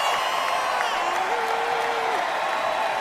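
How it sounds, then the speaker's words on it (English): An audience claps at a political event, a dense, steady wash of applause from a crowd at middle distance, with a single faint voice rising briefly through the noise. "You hear what they clapping for?"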